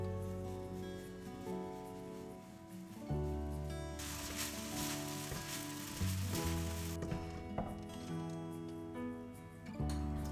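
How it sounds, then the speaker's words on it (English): Glutinous rice for zongzi tosses in a hot pan with dark soy sauce, giving a continuous close sizzle that swells louder midway, with occasional stirring knocks and scrapes. "Add the glutinous rice, give it a quick stir."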